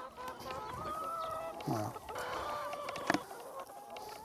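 Hens on a chicken farm clucking and calling softly at a distance amid low ambient noise, with a brief spoken word from a person partway through.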